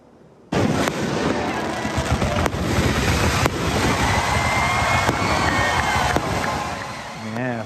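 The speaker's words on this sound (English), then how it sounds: "were treated to this amazing fireworks show after the game" Sharp booms from a post-game fireworks show crack out one after another over a constant roar of crowd noise and crackling, loud and nearby.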